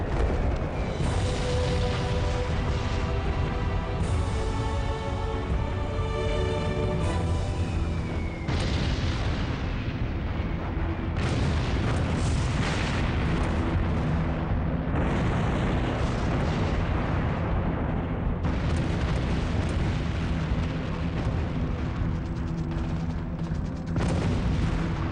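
A dense, continuous roar of heavy bombs exploding as hundreds of Allied bombers strike a monastery in World War II. The rumbling blasts overlap with no pause from start to finish.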